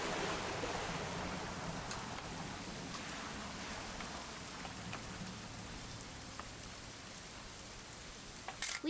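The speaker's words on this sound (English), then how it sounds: "It's gonna rain the whole weekend," Rain falls in the video game What Remains of Edith Finch as a soft, steady hiss of drops heard alone, faint throughout with a few brief louder patters.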